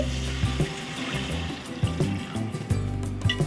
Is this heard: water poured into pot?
yes